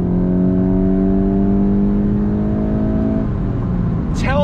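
A 2022 VW GTI Mark 8 pulls away from a dead stop with the engine note climbing steadily, loud and close, then a gear change near the end.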